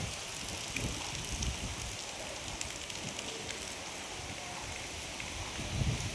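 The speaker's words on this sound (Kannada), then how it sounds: "ಸಖತ್ ಗಾಳಿ ಬೀಸ್ತಾ ಇದೆ ನೋಡಿ." Heavy rain and strong wind sweep through a village in Karnataka, a dense, constant wash of noise with faint gusty swells and no clear voices, steady throughout.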